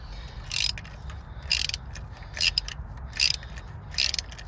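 A socket wrench ratchets a spark plug out of a Nissan Juke engine, the 14mm socket clicking in five short, crisp bursts spaced about a second apart, close and fairly quiet with no talk.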